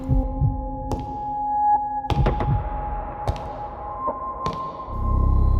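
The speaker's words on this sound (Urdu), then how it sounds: "میرا دل زور زور سے دھڑکنے لگا" A heartbeat sound effect in a spooky setting, slow deep thumps spaced about a second apart over a low droning background, loud and close, with no voices.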